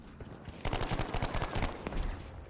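Rapid bursts of tap-fired gunfire from a multiplayer Battlefield V match crack out loud and close, a quick run of sharp shots repeating for about two seconds with no voices.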